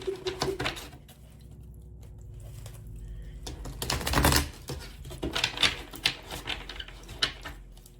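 Tarot cards handled and shuffled, close papery riffles and taps arriving in quick bursts, separated by a quiet stretch and a louder rustling flurry midway, with no voices.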